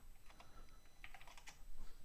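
Someone types on a computer keyboard with quick, light, irregular key clicks, fairly quiet, with no voices.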